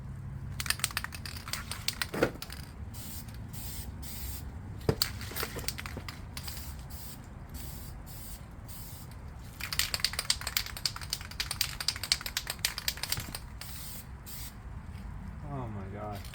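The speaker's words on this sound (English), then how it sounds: "It's just spraying like crazy." Bursts of hissing aerosol spray paint come in repeated passes onto a car, with a long sustained blast midway, close by and moderately loud.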